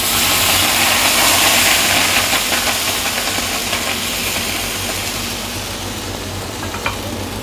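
Pumpkin dosa batter sizzles steadily on a hot tawa, a loud, dense hiss that holds throughout and eases slightly toward the end, with no voices.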